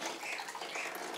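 Tap water running in a steady, fairly quiet stream as food is rinsed under it, a brief hiss with no voices.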